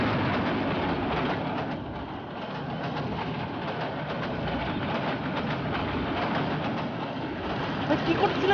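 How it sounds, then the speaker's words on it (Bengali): A train rolls past at close range as a steady, broad rumble with faint rhythmic rail clatter across the whole stretch, and people talk over it now and then. "ভাই ট্রেন আসতেছে"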